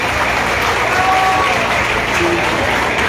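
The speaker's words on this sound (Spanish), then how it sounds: "Lo recibimos con un gran aplauso." Audience applause at a bass (robalo) fishing tournament awards ceremony in Catazajá, Chiapas, a steady dense clapping that fills the whole stretch at even loudness, with faint voices mixed in.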